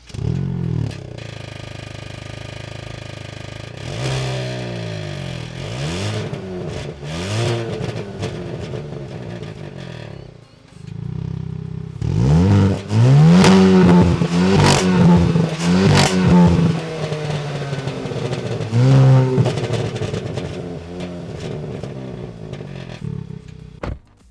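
A 2022 Hyundai i20N hot hatch engine revs repeatedly, rising and falling through the gears with a raspy valved exhaust note, growing louder and more aggressive midway.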